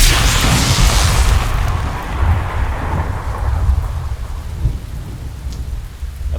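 Heavy rain pours in the video game Len's Island, with a deep rumble of thunder rolling at the start and fading into a steady loud downpour, no voices.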